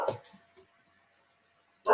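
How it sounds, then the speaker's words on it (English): A husky poodle barks sharply once or twice up close, followed by a brief whimper and silence before another loud bark bursts in at the end. "Sorry about my dog."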